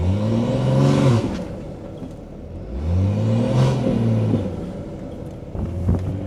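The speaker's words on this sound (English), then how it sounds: "Y'all wanna hear some launch control?" BMW B58 engine, Stage 2 tuned, revving hard on launch control in two loud surges that rise in pitch, each followed by crackling falloff and a third rev starting at the end, heard close with no talk.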